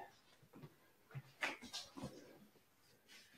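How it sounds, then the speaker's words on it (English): A dog fusses with something on the floor nearby, giving faint scattered whimpers, scuffs and knocks in a quiet room with no talking. "I have a dog here who is making noise with something that's on the floor."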